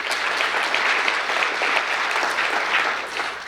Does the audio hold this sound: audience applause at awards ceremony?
yes